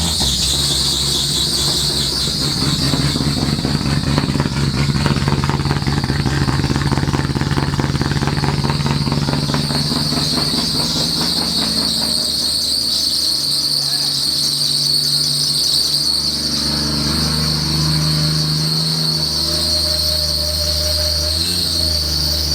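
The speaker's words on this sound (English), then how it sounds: "Wow, that belt squeal just cooked my ears." A turbocharged, twin-charged Ford AU Falcon engine cold-starts in neutral and idles loudly with a piercing, sustained belt squeal riding over the rough engine note for the whole stretch.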